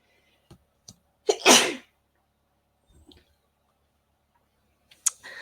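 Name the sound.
sneeze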